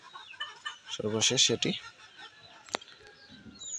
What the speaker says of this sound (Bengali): একটি মুরগি